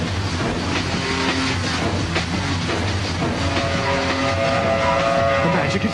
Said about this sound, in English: There's an out-of-control train speeding down the expressway, heading for Sunset Boulevard.